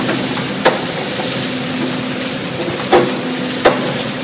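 Chopped garlic frying in a pan of rendered fat, a loud, steady close sizzle with a few sharp clicks and pops of utensils against the pan, no talking.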